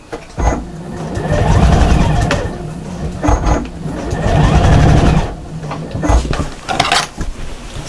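A sewing machine stitches the seams of a fabric shopper bag in short bursts, its motor whirring for a few seconds, pausing, then running again at close range.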